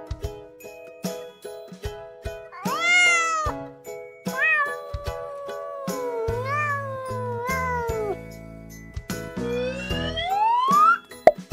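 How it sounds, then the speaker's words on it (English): A cat meows several times, drawn-out rising and falling cries, over a light playful children's music backing with plinks and jingles. "This is cat."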